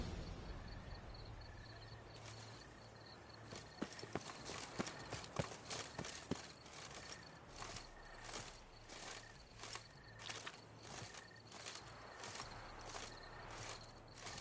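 Horse hooves from The Witcher 3 clop along in a steady, moderately close rhythm over a low ambient hum, with faint insect chirping in the background.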